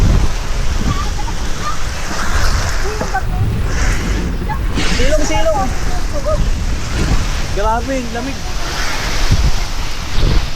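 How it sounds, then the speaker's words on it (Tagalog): Heavy rain and gusting wind roar steadily and loudly at a campsite, with people shouting and talking over the storm noise. "Ang lakas ng ulan. Hindi lang ulan to, parang bagyo. Hangin pa."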